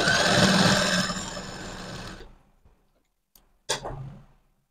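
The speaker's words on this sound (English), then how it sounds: "So I'll go ahead to top stitch." Sewing machine top stitching trouser fabric in one steady burst of about two seconds, then stopping, followed by a couple of faint handling clicks and a short louder clack.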